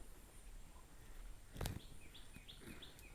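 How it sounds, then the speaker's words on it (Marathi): Faint birds chirp in short, repeated bursts over quiet outdoor background on a farmhouse terrace overlooking a garden, with a brief dull thump partway through. "पक्षी सुद्धा गात आहेत"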